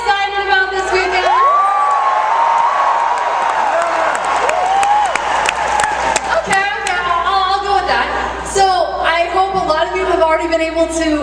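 A large crowd of around 5,000 fans cheers, whoops and shouts at the opening of MINECON in Las Vegas, a loud sustained roar with scattered claps and high-pitched children's yells.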